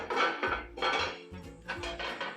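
A lid set onto a pan of English muffins on the stove, a few close metallic clanks and rattles as it settles into place.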